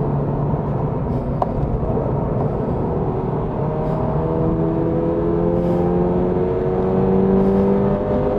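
Toyota GR86 sports car engine on a race track, a steady in-cabin drone whose pitch climbs through the gears under hard acceleration, with tyre and road rumble beneath.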